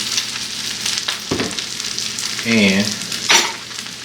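Shrimp fried rice sizzles softly in a pan as it is stirred, a faint crackle with brief scraping and a short spoken word.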